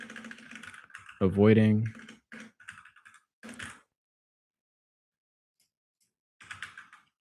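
Close keystrokes tap on a computer keyboard, with a brief spoken word among them, then a pause of silence before another short burst of typing.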